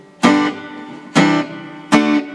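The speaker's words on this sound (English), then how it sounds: "Got just a bit of reverb there." Three strummed electric guitar chords through a Roland Cube Street amp ring out at a steady pace, each with a sharp attack and a short, slightly reverberant decay.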